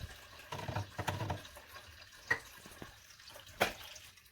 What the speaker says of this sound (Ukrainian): Заливаємо даний розчин.